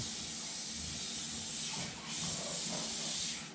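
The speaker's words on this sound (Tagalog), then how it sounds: "Kailangan po natin ng non-stick spray." Non-stick cooking spray hisses from an aerosol can into a baking mold, a close, steady spray lasting several seconds with a brief dip in the middle.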